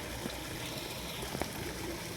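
Water streams and trickles over rocks on a hillside near a village, a continuous close rushing wash with small splashes and no voices.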